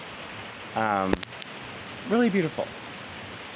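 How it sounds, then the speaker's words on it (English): Rain falls outdoors in a soft, steady patter, with a person speaking briefly twice over it. "I'm just sitting here in the rain, getting soaked."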